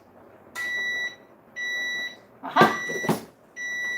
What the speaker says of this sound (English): Timer is done.